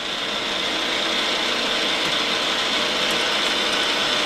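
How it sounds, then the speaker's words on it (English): Steady mechanical whir and grinding hum of the power feed on an old Brown and Sharpe No. 2 universal milling machine during a final cutting pass, loud and continuous with no talking. "Power feed still works great."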